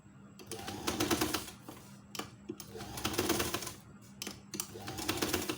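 A sewing machine runs in bursts, stitching elastic onto a child's trouser, with steady rapid whirring runs broken by short pauses, close and fairly loud with no talking.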